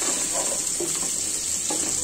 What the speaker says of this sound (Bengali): হয়ে গিয়েছে আমার পেঁয়াজগুলো ভাজা। পেঁয়াজ, রসুন, আদা ছেঁচা সবকিছুই।